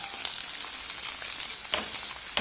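Onions fry in a hot pan for an onion-topped dish, a loud, steady sizzle with crackling pops and the scrape of stirring throughout.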